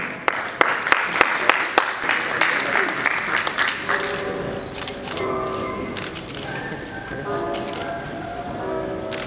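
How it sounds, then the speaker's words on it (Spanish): Audience applause at an official ceremony in Peru presenting the national innovation network, a sustained crowd clapping with a few sharp claps early on, then continuing under a voice and background music-like tones. "Un aplauso para nuestras autoridades, por favor."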